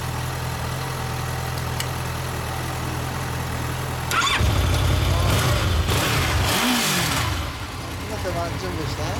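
A motorcycle engine fires up partway through, settling into a rough idle with a few revs under nearby voices; a steady low hum runs beforehand.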